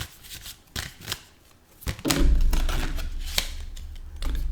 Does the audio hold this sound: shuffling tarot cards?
yes